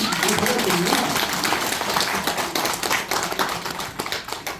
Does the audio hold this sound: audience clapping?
yes